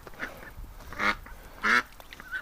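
A soaking-wet duck, caught outdoors in winter, gives two loud, close quacks about half a second apart, with softer faint calls around them.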